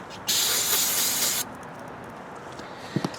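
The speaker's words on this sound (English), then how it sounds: "I'm going to clean this out with some carburetor spray" A steady hiss of aerosol carburetor cleaner sprayed into a Bolens lawn mower carburetor in one burst of just over a second, then quiet with a few small clicks.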